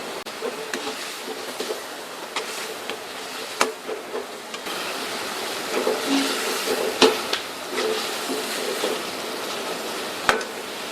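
Pieces of beef fry in a spice masala for bhindi gosht: a continuous close sizzle, broken by repeated scraping and clicking stir strokes of a spoon against the pan.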